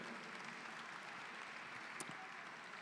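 Audience applause at a gastronomy and wine awards ceremony, a dense, even wash of clapping at a fairly distant, faint level throughout.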